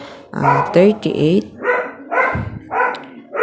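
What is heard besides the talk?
dog barking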